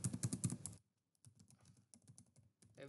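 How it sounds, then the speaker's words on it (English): Quick bursts of keystrokes on a computer keyboard, close and crisp, with a brief pause in the middle before lighter, faster tapping resumes. "let me type something like sysout"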